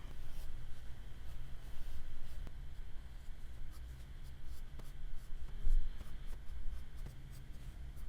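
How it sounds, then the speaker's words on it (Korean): Steady scratchy strokes of a pencil or pen drawing straight lines on paper for a two-point perspective box sketch, close and continuous with faint rhythmic pulses as each line is drawn. "아래도 그러면 좀 명확하게 그려볼게요."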